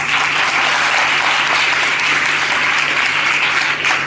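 Loud, dense applause from a crowd at a training session, sustained and even for several seconds with no break, close and filling the space.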